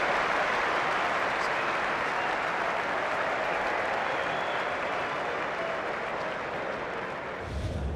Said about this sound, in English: Warm applause for Michael Beer, the debutant, coming in.